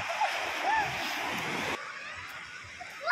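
Children bathe in the sea at Agno, Pangasinan, their water splashing faint and mixed with distant voices and shouts before the sound drops abruptly partway through.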